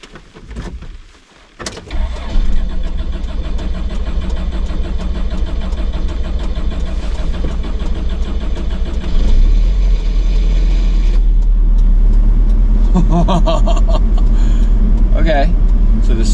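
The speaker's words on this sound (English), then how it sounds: "the starter went. I just had to press on the gas a little bit and it brought it back" A van engine in New Zealand cranks and catches, then runs at a steady idle; the revs rise when the gas is pressed, with a deeper surge near the end and some clatter over the constant close engine drone.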